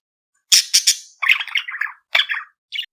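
A pet budgie chirps and squawks in quick bursts, bright close calls in three or four short phrases separated by brief gaps, alone without talk.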